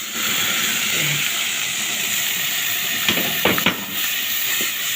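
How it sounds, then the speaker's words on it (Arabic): Minced tomatoes hit a hot pan of garlic for Egyptian koshari, a loud steady hiss of steam and frying, with a few clatters of utensil near the end. "دي الاساس التومه، وبعدين بننزل بالطماطم المفرومه"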